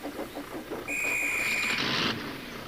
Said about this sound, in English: The two engines laughed as the guard's whistle blew.